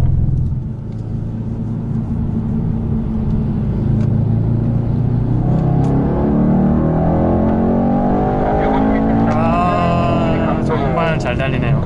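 A Mercedes-AMG car accelerates down a speedway straight, its engine rumbling loud and steady before rising in pitch as revs climb near the end, heard from close by inside or near the car.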